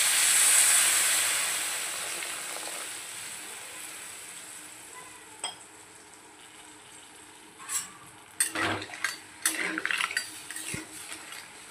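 Water poured into a pan of frying crab curry, a soft hiss and sizzle fading through the first seconds, followed by scattered clinks of a utensil against the metal pot.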